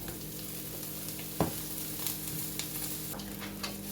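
Eggplant pieces tip into a pan of vegetables frying for ratatouille, giving a soft, steady sizzle with a sharp clack as they land and faint stirring scrapes after.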